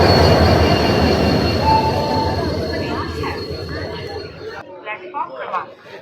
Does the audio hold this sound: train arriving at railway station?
yes